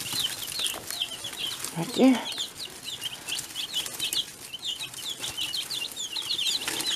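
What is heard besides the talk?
chicks and chickens clucking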